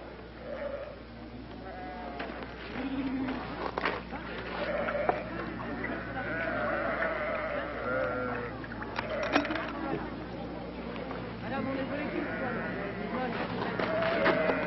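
Sheep bleating in a farm pen during an anthrax vaccination trial, repeated cries scattered through steady background noise while people talk over them.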